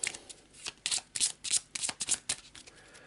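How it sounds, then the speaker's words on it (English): A deck of game cards shuffled at the table during a Perdition's Mouth: Abyssal Rift board game session: a quick run of crisp, papery riffle bursts, close and fairly loud, with no talking. "So we've got to give these a quick shuffle."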